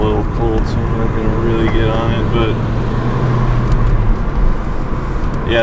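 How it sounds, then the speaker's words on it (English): A cold engine in a cheap, older Audi car hums low and steady while driving gently, with road noise underneath and a person talking over it. "Engine's still a little cold, so I'm not gonna really get on it"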